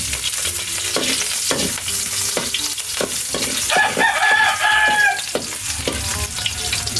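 Garlic, ginger and onion sautéing in a pan, a steady sizzle broken by repeated spatula scrapes and clacks, with a rooster crowing in the background partway through.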